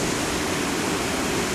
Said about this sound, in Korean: 거대한 소리를 내며 쏟아지는 폭포는 그 끝이 어딘지 알 수 없을 만큼 멀리 흘러갔는데요